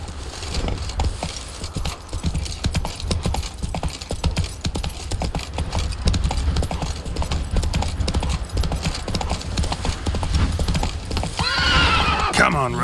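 Hooves clip-clop steadily on a horse in The Witcher 3 video game, and a loud whinny rises near the end, with a voice speaking over the hoofbeats.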